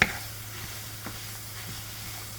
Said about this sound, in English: I'm gonna cook the onions until they get really translucent